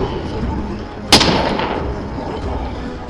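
A single sharp gunshot from a Bihar police gun-salute volley at a state funeral, loud and close, cutting through a steady background murmur of a crowd.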